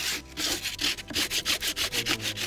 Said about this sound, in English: I'm using a sandpaper with a, you know, a piece of stone that I have over here